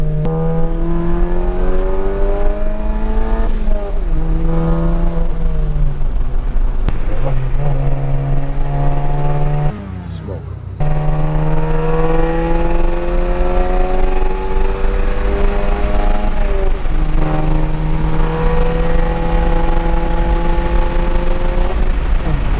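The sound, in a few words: straight-piped VW MK7 car revving while driving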